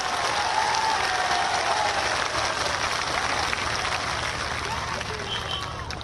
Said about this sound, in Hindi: बहनों भाइयों तालियां बजाकर उनका स्वागत करें